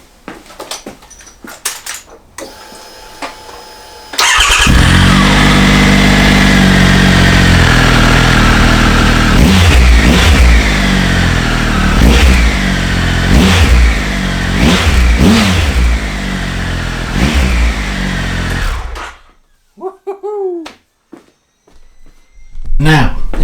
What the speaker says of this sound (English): Let's have a listen to this Arrow exhaust.